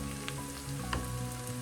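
Ground turmeric, coriander and chilli powder fry in hot oil for a mint-leaf chicken curry, a faint, steady sizzle with a few soft pops, heard alone.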